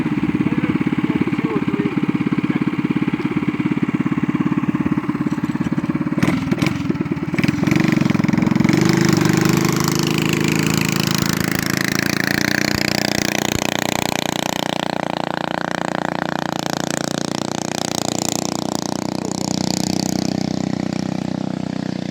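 A vehicle engine runs steadily during a Grand Prix test run, a loud mid-pitched drone with a burst of clattering midway before it settles into a sustained hum.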